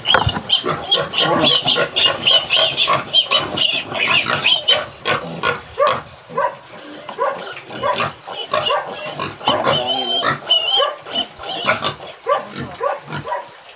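A piglet squeals loudly and continuously, harsh piercing cries that hardly pause, while being castrated and having the wound stitched on a farm.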